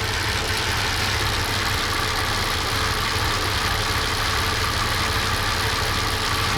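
An Audi A8 engine with 368,000 km idles steadily on petrol with a low, even rumble and faint knocking, running alone with no talk.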